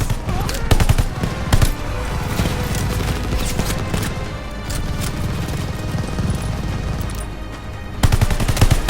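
Sustained, loud machine gun fire roars through a Call of Duty: Vanguard battle, dense bursts overlapping with other gunshots and chaotic combat noise, with heavier volleys at the start and end.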